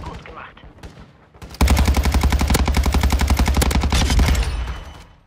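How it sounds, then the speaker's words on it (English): Rapid full-auto bursts from a Cronin Squall in the video game Warzone 2.0, loud and sustained for several seconds after brief quieter sounds, with the shots blurring into a dense rattling stream. "Whether you're using it in full auto or semi-auto, the Cronin Squall is still the best gun in the game"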